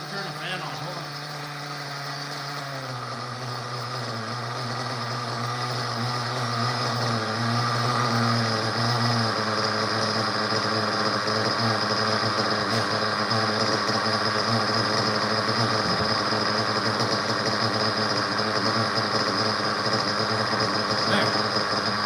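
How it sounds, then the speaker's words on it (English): An exhaust fan spins up beside an O'Donnell ZO1B RC engine setup, its steady whirring drone rising in loudness over the first seconds and then holding a constant, close hum throughout. "That turned the exhaust fan on."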